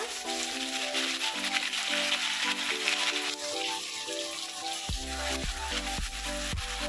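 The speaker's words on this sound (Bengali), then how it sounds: "পেঁয়াজটা একটু ভাজা ভাজা হয়ে যাক।" Onion paste sizzles and fries in hot oil in a pan during preparation of a Bengali ilish pulao, a steady loud crackling hiss with occasional stirring knocks.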